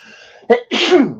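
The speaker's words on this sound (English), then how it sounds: "It's very dry sneeze." A single loud, dry sneeze from a person during a live show, a brief inhale followed by a sharp, breathy burst, close and alone.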